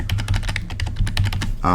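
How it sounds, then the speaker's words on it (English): Computer keyboard arrow keys are pressed in a quick run of close, crisp clicks, with a brief voice or tone right at the end. "So here I'm pressing left and right arrow keys"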